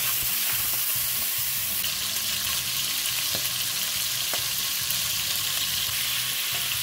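Longaniza sausage fries in oil in a pan with a loud, dense, unbroken crackling sizzle close up, steady from start to finish with a few brief pops.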